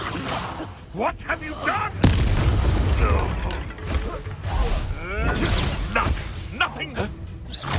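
Spell effects whoosh, burst and boom in rapid succession during Hogwarts Legacy gameplay. The loud magical blasts and swishes overlap with brief spoken lines from characters.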